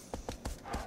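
Horse hooves clip-clop on the ground in the video game Shadow of the Colossus, four soft, evenly spaced hoofbeats at a walking pace, faint and fairly close, with no speech over them.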